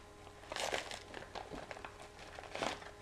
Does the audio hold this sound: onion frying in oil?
no